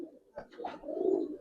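Giribaz pigeons at a farm give soft, low coos up close, with a few brief sharper chirps mixed in before a longer rolling coo.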